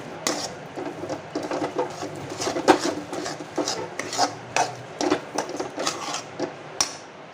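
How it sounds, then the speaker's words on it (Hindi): Banana halwa with sugar scraped and stirred in a metal pan, a steady run of close scraping and clinking strokes with no talk. "इस तरह से अच्छे से चीनी गलने तक इसे स्टीयर कर लेंगे।"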